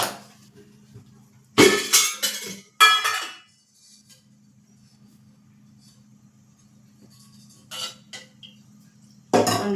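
A metal cooking pot clanks down onto a gas stove in a home kitchen, with several sharp knocks and scrapes over a low, steady burner hum, followed by a few more clinks later.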